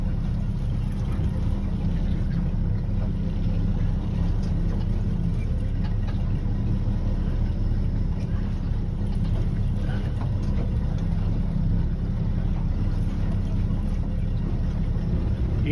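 A boat motor runs steadily at idle, a constant low rumble with no break, close by and loud throughout.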